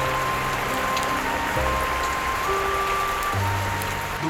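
Monsoon rain falls steadily at Harishchandragad fort, a dense, even hiss filling the whole stretch with sustained tones drifting over it, and no one speaking.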